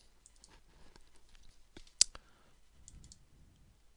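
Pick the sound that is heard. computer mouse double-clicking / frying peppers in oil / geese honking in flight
computer mouse double-clicking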